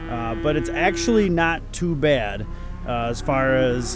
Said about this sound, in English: how much the calves are kind of bellowing